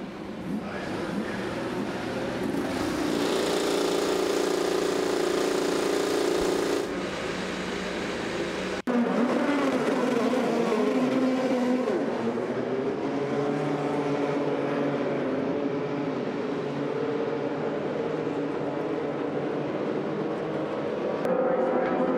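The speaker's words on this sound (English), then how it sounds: "Drivers, start your engines." IndyCar race car engines at Indianapolis Motor Speedway fire up and rev as a loud, continuous wall of mechanical roar. It cuts out briefly partway through, then resumes with steady engine noise from the field.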